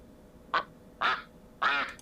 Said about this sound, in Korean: 오리 꽥꽥